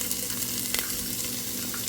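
Garlic sautéing in olive oil in a pan, a close, even sizzle with a soft crackle and a faint low hum underneath, no talking.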